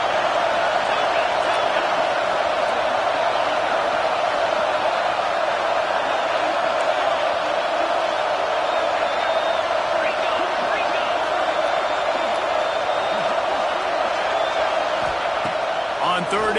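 Home crowd roaring steadily at an NCAA football game against Duke, a dense, continuous wall of stadium noise with commentators talking over it throughout.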